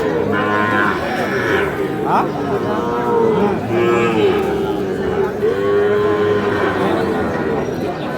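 Several Sahiwal bull calves moo repeatedly at a busy outdoor cattle market, their drawn-out bellows overlapping with steady crowd chatter and background noise.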